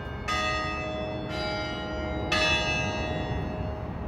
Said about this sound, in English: The bells.